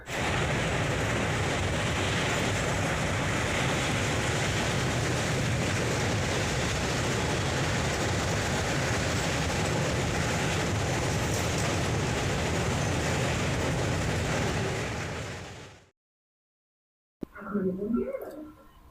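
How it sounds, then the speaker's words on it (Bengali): The Kanchankanya Express train rumbles loudly and steadily along the tracks near Dankuni Junction with constant rattling, then the noise cuts off abruptly near the end, followed by a brief faint voice. "এখন আমাদের ট্রেন ক্রস করে যাচ্ছে ডানকুনি জংশন"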